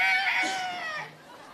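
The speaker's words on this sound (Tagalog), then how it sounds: "May manok na naman." A rooster crows once in a short, strained call that fades off, fairly faint, with a quiet room in the background.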